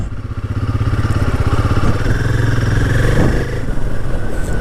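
A motorcycle engine running at the start of a bike ride, a loud close, throbbing idle with a slight rise in revs, alone without talk.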